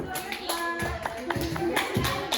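A small group of children applauds a student teacher at a kindergarten, quick irregular claps and taps scattered across a couple of seconds, with faint voices underneath.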